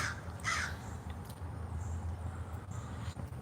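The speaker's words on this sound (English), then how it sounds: "Some other birds in the background." Crows cawing outdoors, a few harsh calls near the start and fainter ones scattered through, over a steady low background rumble.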